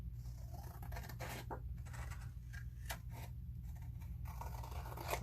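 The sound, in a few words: trimming excess paper covering a mini notebook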